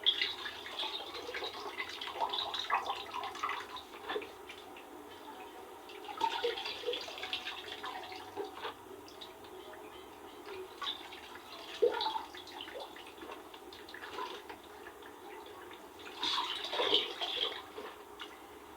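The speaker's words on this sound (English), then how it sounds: "I'm done washing the rice." Rice being washed by hand in water in a village kitchen, with soft sloshing, swirling and dripping splashes rising and falling in irregular bursts, fairly quiet and steady throughout with no voices.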